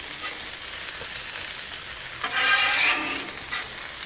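Bacon-fried corn sizzles on a Blackstone griddle, a steady close hiss of frying that swells briefly louder midway as food is stirred or turned, with no voices.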